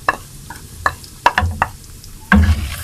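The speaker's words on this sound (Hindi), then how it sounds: "साथ ही चम्मच चला देना" A spoon stirs garam masala, chillies and chickpeas in oil in a cooking pot, giving several loud scraping knocks and clatters against the pot over a faint sizzle.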